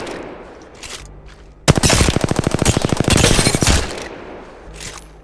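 Rapid, loud automatic bursts from an R-301 rifle in the Apex Legends video game, a dense volley of about two seconds of evenly spaced shots with no voices over it.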